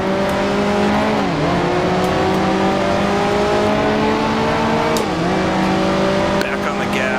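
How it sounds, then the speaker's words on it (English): A 1955 Formula One car engine in Grand Prix Legends drones loud and close as it engine-brakes, pitch sliding downward through two marked drops at downshifts, with a voice talking faintly underneath. "So really need to use the engine wherever I can to slow the car down."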